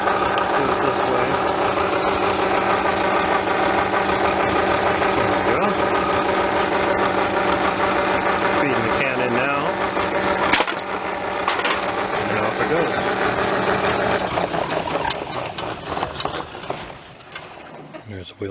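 Can crusher machine with newly mounted cogged wheels running steadily, a continuous mechanical whir and rhythmic clatter that slows near the end as the wheel stops.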